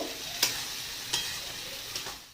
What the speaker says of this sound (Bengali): ডালটাকে এর সঙ্গে কিছুক্ষণ কষিয়ে নেব।